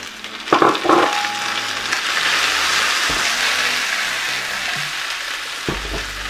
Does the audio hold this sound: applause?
no